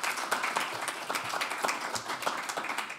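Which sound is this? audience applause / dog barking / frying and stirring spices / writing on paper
audience applause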